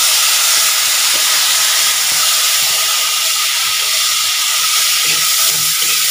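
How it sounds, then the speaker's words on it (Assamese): Chickpeas and potatoes fry in a pan, a loud, steady hiss and sizzle of hot oil that runs unbroken throughout with faint small pops underneath and no talking. "মই এতিয়া বুট আৰু আলু ভাজিছোঁ।"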